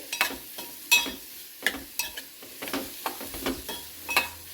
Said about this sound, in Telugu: కొద్ది ఉప్పు కారం చల్లుకొని కొంచెం ఫ్రై చేసుకుంటే సరిపోతుంది